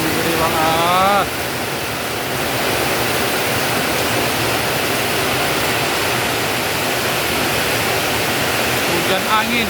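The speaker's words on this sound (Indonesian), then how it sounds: "Hujan angin." Heavy rain with strong wind in a tropical setting with coconut palms, a steady dense roar of downpour and gusts filling the whole stretch, with a brief voice near the start.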